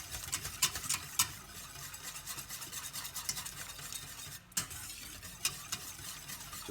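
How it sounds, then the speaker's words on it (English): Double cream is whisked into a toffee sauce in a pan for sticky toffee pudding, a fairly quiet, close scraping and clicking of the whisk in a quick, uneven rhythm with soft sizzling beneath. "Just keep whisking until it all comes together."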